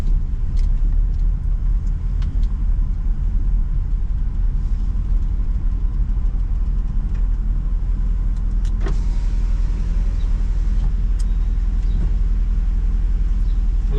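A car driving in Brazil, steady loud road and engine rumble throughout with faint clicks and a brief whine, no talking.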